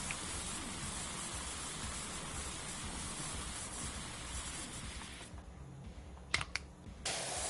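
A pressure washer spraying in Power Wash Simulator 2, a steady loud hissing jet running without a break, cutting out briefly near the end with a few clicks before resuming.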